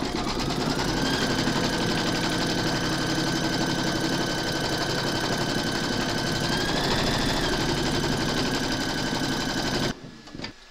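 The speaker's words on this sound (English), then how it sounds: "Pop your hoop into your machine and stitch round number 2 to secure it." Up close, a Brother embroidery machine stitches a round to secure batting on a hooped Santa design, giving a loud, continuous rhythmic whirring hum that runs evenly and then stops abruptly near the end, with no talking.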